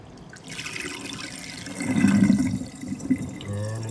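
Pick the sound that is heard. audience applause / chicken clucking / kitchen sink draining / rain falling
kitchen sink draining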